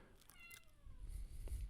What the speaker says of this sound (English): You might hear a cat in the background.